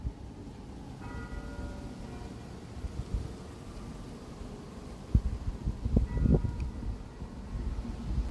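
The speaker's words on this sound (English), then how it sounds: "That's the bells of St. Michael's." Church bells of St. Michael's ring faintly in the distance over street noise in Lincoln Park, Chicago, a few tolls standing out near the end of the clip.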